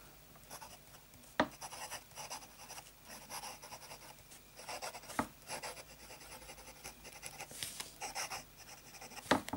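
A fine-nib fountain pen writing Diamine Soft Mint ink on paper gives a soft continuous scratching, close and quiet, with occasional sharper taps as strokes begin, and no voices.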